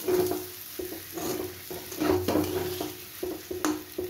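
Chana masala spices fry in a pan with a split green chili while a utensil scrapes and stirs. A steady low sizzle runs underneath and a few clinks punctuate it.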